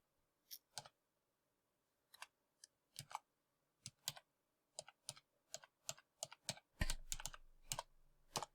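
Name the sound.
typing username and password on a computer keyboard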